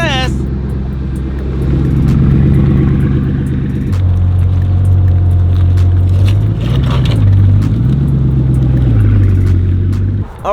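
A Bugatti Chiron's engine hums low and steady from the cabin while driving, with a shift in pitch and a couple of gentle rises and falls as it revs, a voice heard briefly at the start and end.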